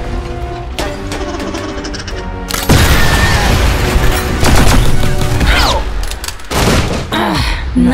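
Gunshot sound effects in a comic dub ring out as a loud burst of booming shots and fusillade over a music backdrop, dense and close.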